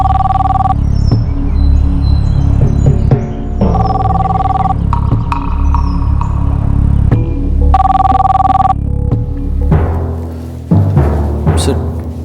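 A telephone rings in repeated bursts at a police office, loud and close over a steady low background hum, with a trailing chirp near the end.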